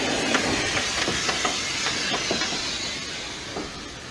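A 140-ton steam locomotive runs with a steady, loud hissing roar and rhythmic clicking beats of wheels and exhaust, continuous throughout.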